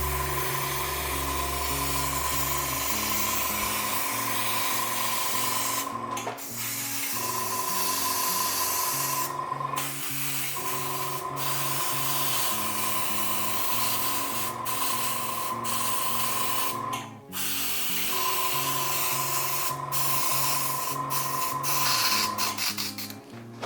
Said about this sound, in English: I'm going to go in with an airbrush just to get a more even base.